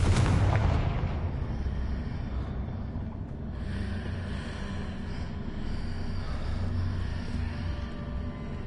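A Confringo blasting spell in Hogwarts Legacy opens on a loud explosive burst, then settles into a heavy, sustained rumble with no voices.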